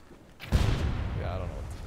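A mortar fires in the naval pirate video game Blazing Sails, a single heavy boom that starts abruptly and then leaves a sustained rumble, with game ambience continuing underneath.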